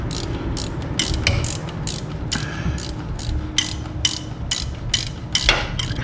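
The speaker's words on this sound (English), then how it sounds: "Let's see if we can get this upper bolt tightened down." A hand ratchet clicks steadily as it tightens a long bolt on a 1977 Pontiac Trans Am during brake and cooling work, with quick regular pawl clicks in short strokes, close and clear, no talking.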